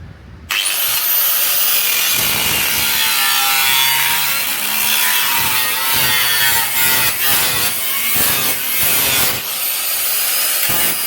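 A full bore cutting disc grinds through a classic car's metal floor in one loud, continuous harsh screech lasting about ten seconds, with brief pitch dips and wavering as the blade bites.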